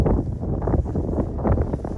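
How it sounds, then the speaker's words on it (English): Strong wind buffets a microphone at Breydon Water, producing loud, continuous low gusty rumbling that pulses unevenly throughout. "It was far too windy up top"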